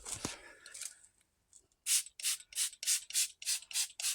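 A Jaysuing Car Nano scratch repair cloth is rubbed briskly over car paint, making close, loud swishing strokes in a steady rhythm of about nine back-and-forth passes, after a few softer, quieter rubs at the start.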